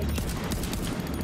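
Heavy gunfire rages in the video game Tom Clancy's The Division 2 on PS4 Pro, a dense, continuous barrage of overlapping shots with no clear gaps, loud and close, filling the whole moment without any talk.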